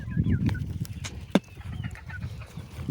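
Desi hens on an egg-laying poultry farm cluck and murmur close by, with overlapping soft calls and one sharper squawk midway, and no voices over them.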